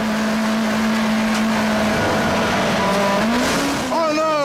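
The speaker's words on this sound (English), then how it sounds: "car just revs out of control" A Volkswagen race car engine drones steadily at Zwartkops circuit, then revs out of control, its pitch climbing and wailing upward near the end, with a commentator talking excitedly over it.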